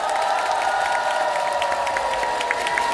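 Festival crowd at an outdoor concert for the Hampyeong Butterfly Festival applauding and cheering in a steady, continuous wash of clapping, loud and sustained throughout with no pauses.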